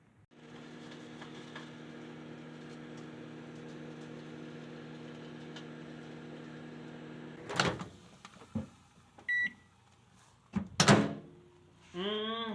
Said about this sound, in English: I put the meat in there and just microwave it